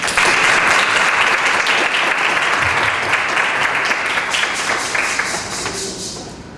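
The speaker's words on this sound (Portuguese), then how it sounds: "Palmas, gente, por favor." Audience applause at an indigenous music and education panel, dense steady clapping from a full room that holds strong throughout and thins slightly toward the end, with no talk over it.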